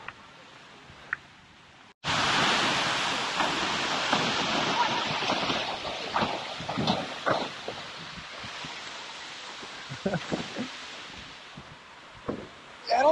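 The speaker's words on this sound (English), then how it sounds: "Now that's a waterfall." An artificial waterfall pours with a loud, steady broadband rush that starts abruptly and continues throughout, with occasional voices and splashes nearby.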